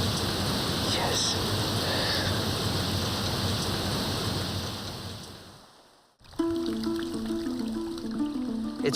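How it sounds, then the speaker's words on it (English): A heavy tropical downpour on a deserted island, a dense, loud, steady hiss of rain that fades out about two-thirds through and gives way to a different scene. "It's proper tropical rain, and the first downpour in almost a week."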